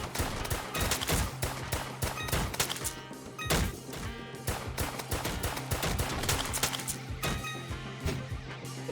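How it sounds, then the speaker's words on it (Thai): Rapid, dense video-game gunfire from a boss in Roblox Too Many Weapons Simulator, continuous bursts of shots and impacts layered over a droning tone, loud and relentless throughout with no clear talking. "บอสมันยิงแบบทุกอย่างเลย ยิงกระชิดยิงไกลๆด้วย"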